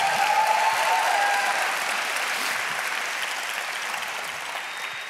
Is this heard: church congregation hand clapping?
yes